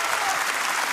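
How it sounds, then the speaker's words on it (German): A brief, loud burst of studio audience applause on a German late-night TV show, steady and dense across the whole moment. "Applaus!"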